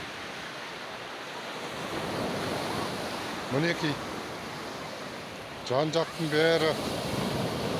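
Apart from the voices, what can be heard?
Mediterranean sea waves at Alanya beach, Turkey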